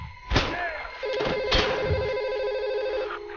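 A phone rings during a Thai DMT Wanted game stream, its electronic ringtone chiming steadily for about two seconds after a couple of sharp crashes or bangs at the start.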